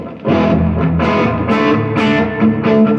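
Loud, crunchy overdriven guitar chords ring out steadily through a Blackstar HT5 valve mini stack, thick with valve-amp distortion and sustained harmonics, with no talking.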